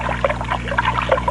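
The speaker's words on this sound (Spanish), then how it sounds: "Se oía el sonido del agua." Radio sound effect of water made by hand for an old radio drama, heard as a short run of soft bubbling, gurgling blips, moderately loud and alone.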